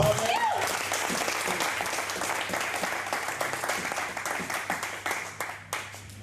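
Audience at a French-language stage play applauding and cheering in a dense, steady wave that thins into scattered claps near the end, with voices mixed in.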